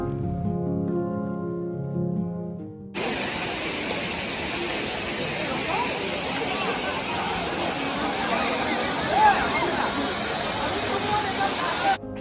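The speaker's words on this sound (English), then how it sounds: "And here is the majestic Dudhsagar waterfall." Roaring, steady wash of the Dudhsagar waterfall, loud and broadband, kicking in abruptly after a few seconds of quieter tonal sound and holding continuously to the end.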